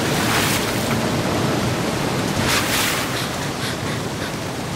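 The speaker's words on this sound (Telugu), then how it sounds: "ఈ జలపాతం ఎంత బాగుందో కదా" Continuous roar of falling water at a jungle waterfall beside a lake, a steady broadband rush with no speech over it.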